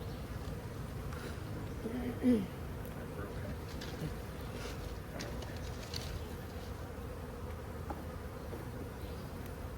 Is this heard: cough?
no